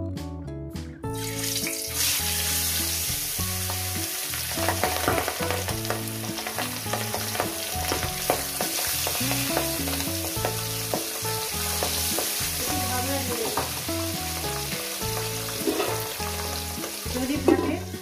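Large pabda fish sizzle steadily in hot oil, a loud continuous frying hiss that runs unbroken under a layer of background music.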